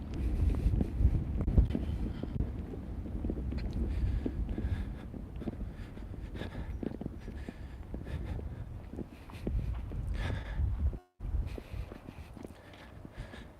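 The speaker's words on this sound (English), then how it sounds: "it's a little windy here" Gusty wind buffets an outdoor microphone on a bouncy walkway, a steady low rumble through most of the stretch with a brief dropout near the end, no talking over it.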